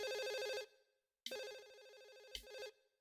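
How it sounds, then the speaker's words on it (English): Electronic telephone ringing in the video game Silent Hill 4, three warbling ring bursts separated by silences, loud and close, ending with a sudden low thud. "There's a phone ringing somewhere."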